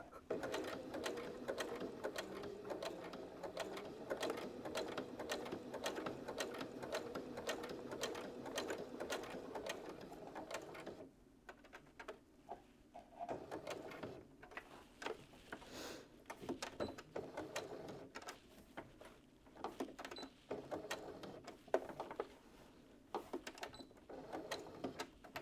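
A sewing machine stitches bias tape back onto a pair of shorts, running in a steady close whir for about ten seconds, then continuing in shorter stop-and-start bursts with brief pauses between them.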